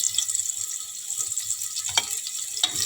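Onion frying with goat mutton in a pan, a loud steady sizzle with a couple of brief louder crackles, close up and without talking.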